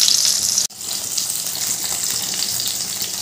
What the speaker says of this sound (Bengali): মাছগুলো একটু উল্টে পাল্টে লাল করে ভেজে নেব, তবে খুব বেশি কড়া করে ভাজবো না।